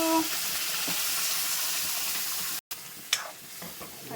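Chole masala sizzling and frying in a pan while being stirred, a dense close hiss broken by a brief dropout and a few scraping stirs.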